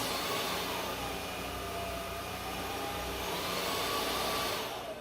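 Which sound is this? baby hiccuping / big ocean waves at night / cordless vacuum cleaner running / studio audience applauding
cordless vacuum cleaner running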